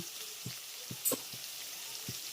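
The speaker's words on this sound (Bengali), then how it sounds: "এই একই তেলের ভিতরে আমি বেগুনগুলোকেও ভেজে নেব" Eggplant pieces frying in hot oil with turmeric and salt in a pan, a quiet continuous sizzle broken by a few soft taps and a brief louder spatter.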